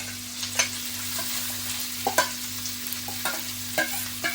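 Cluster beans stirred into oil with sautéed garlic in a pan, a soft sizzle running underneath while a utensil scrapes and clinks against the pan in irregular strokes, close by and with no talking.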